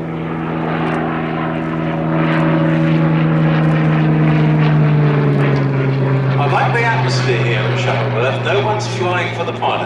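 Propeller-driven Spitfire or Hurricane making a go-around over Old Warden Aerodrome at a heritage air day, a loud steady droning engine growl that swells and holds, with a commentator talking over it.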